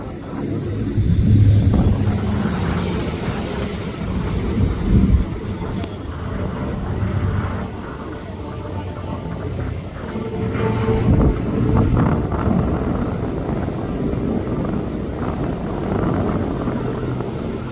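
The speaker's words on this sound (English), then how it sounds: "J.D. Dale flying the museum's B-25." A museum's World War II B-25 bomber flying at the Central Coast Airfest 2024 airshow, its piston engines producing a loud, sustained rumbling drone that swells and fades as it passes.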